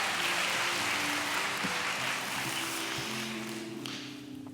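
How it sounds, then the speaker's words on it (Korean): A congregation at a Wednesday morning women's worship service claps in welcome, a soft broadband patter under sustained keyboard chords, thinning out toward the end. "하나님께 정말 감사의 박수로"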